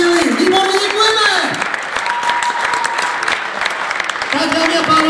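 Audience applause at a rock and roll dance competition, a sustained wash of clapping from a crowd. An announcer's voice runs over it.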